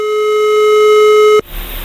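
A steady telephone busy signal tone on a faulty line holds loud and continuous, then cuts off abruptly near the end, leaving faint background noise.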